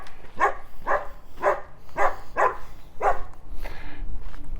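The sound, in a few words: dog barking in an alley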